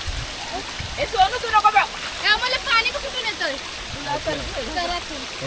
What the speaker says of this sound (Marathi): मस्त दगडातून पाणी येतं बघा